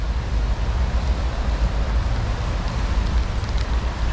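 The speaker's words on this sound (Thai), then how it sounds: "ฝนมันตกนะครับ" Rain falling beside a canal where snakehead fish are being caught, a steady loud broadband hiss and patter that stays even throughout with no voices.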